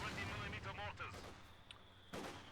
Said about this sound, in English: speaking of mortar, that mortar will start doing some work.